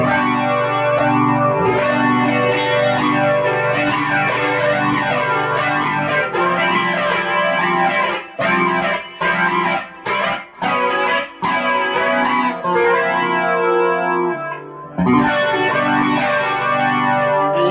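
Sustained electric guitar chords through an E-Lady flanger pedal, with a sweeping, whooshing flanger effect, steady and loud, with brief choppy breaks midway before the swirling tone resumes.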